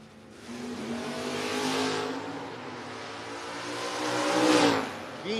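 Drag race cars launch at a no-box 660 shootout, a Comet Wagon against a Chevy Camaro, with loud engine roar climbing and swelling twice as the cars pull away, a little tire noise mixed in and an announcer faintly underneath.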